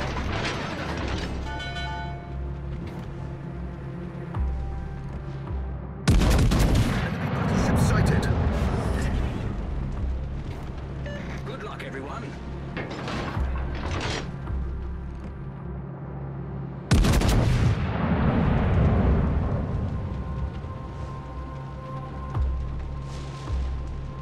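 Naval gunfire in the World of Warships: Legends video game, two heavy booming salvos roughly ten seconds apart, each a sharp loud blast with a long rumbling decay, over a steady engine hum and mechanical clatter, with a voice speaking between them.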